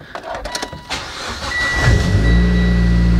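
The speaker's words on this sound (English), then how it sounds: "let's go ahead and start the car, or at least attempt to start the car." A Mitsubishi Lancer engine cranks with a few quick starter bursts, then fires and settles into a steady, close idle hum.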